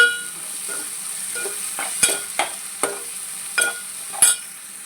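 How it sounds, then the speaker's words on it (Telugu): Onion, tomato and ginger-garlic paste frying in a pan for a spinach pasta curry, giving a low steady sizzle that is punctuated by several sharp stirring scrapes and taps of a utensil, close and fairly quiet. "ఉల్లిపాయ ముక్కలు బాగా వేగిపోయినాయండి"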